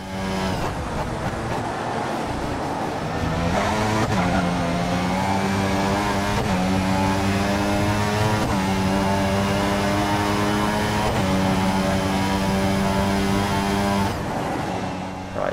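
A loud, sustained high-revving Formula 1 engine from the game F1 2014, driving a McLaren, drones steadily, its pitch stepping through gear changes with brief drops, continuous and close throughout.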